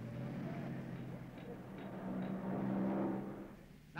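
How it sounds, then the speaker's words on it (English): An Auto Union Silver Arrows 16-cylinder race car idles steadily during a pit stop, a low continuous engine drone with faint clatter in the background and speech layered over it. "But he doesn't turn off the engine"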